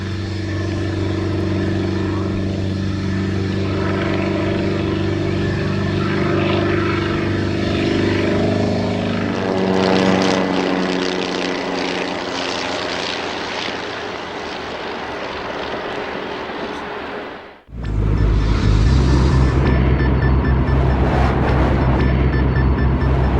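A propeller aircraft engine roars steadily overhead at an air show, its pitch shifting slowly, then cuts abruptly before surging back louder and close.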